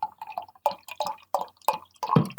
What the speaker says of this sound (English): So let's go ahead and pour this.